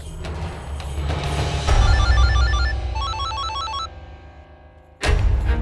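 A phone rings with a repeating electronic tone pattern over a loud, busy background, then cuts off before noise surges back.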